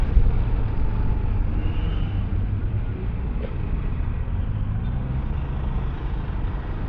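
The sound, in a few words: tricycle passing on the road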